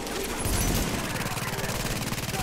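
A deployed video game turret fires at enemies in a rapid, steady stream of shots, loud and continuous after an opening burst.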